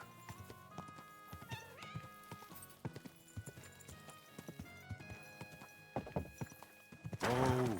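Horse hooves clip-clop at a slow, uneven walk in the video game Kingdom Come 2, close and distinct, with a loud whinny at the end.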